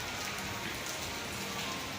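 Light rain falls outdoors in a steady, even hiss of fine drops that stays constant and moderately loud with no other sounds.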